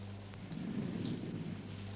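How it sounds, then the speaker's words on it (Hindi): Low, steady rumble of thunder from storm clouds rolling continuously in the distance, with faint rain-like hiss over the top. "आज ये बादल इतने जोर से क्यों गरज रहे?"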